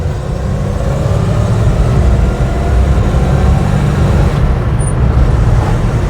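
A 1967 Vauxhall Cresta's engine pulls steadily on an open road at the national speed limit, a loud, constant low rumble with road and wind roar close by and no voices.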